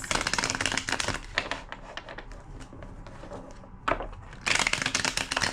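Rapid papery riffling and flicking of a tarot card deck in several bursts, with softer card handling between them, close and moderately loud.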